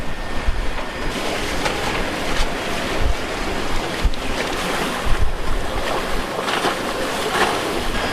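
A boat heading to Culebrita pounds through rough water, with surging waves, splashing thuds and heavy wind buffeting the microphone, loud and continuous.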